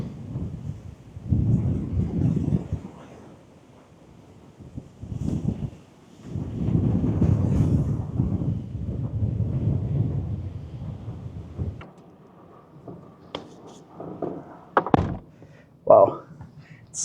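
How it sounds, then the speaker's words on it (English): Gusty wind buffets the microphone in heavy low rumbling bursts, with a few sharp thumps and knocks near the end, on a sandy landscape at Landmannalaugar, Iceland. "Wow, it's so windy"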